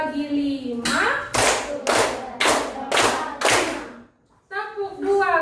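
Children clap hands together in a classroom counting game, five sharp, loud claps in a steady rhythm, with voices speaking before and after the claps.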